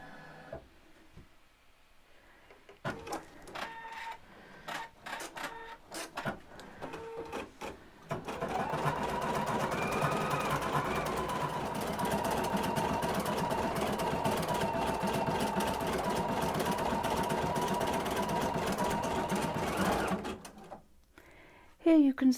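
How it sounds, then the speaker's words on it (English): An embroidery machine stitches a quilt block in the hoop, a steady, fast mechanical whirring hum that runs continuously for about twelve seconds after some brief clicks and handling noises. "Now we're ready to start the embroidery."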